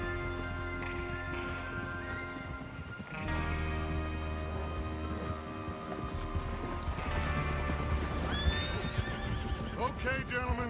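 Horses whinny repeatedly and hooves clip-clop as riders gather for a train robbery in the video game Red Dead Redemption 2. The neighs are close and loud over steady hoofbeats, with background music and talking voices.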